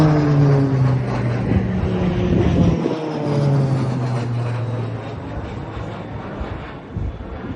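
A fixed-wing propeller airplane passing with a droning engine, whose tone shifts and falls as it goes by, fairly loud and heard alone without talk.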